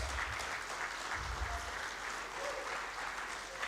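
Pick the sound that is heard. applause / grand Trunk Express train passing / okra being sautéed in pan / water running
applause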